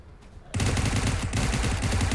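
Automatic gunfire in PUBG Mobile against zombies: rapid, loud, continuous bursts start abruptly and keep rattling densely up close for nearly two seconds.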